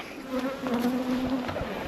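Honey bees buzz around their hives in a close, continuous drone with a few individual wingbeats passing near.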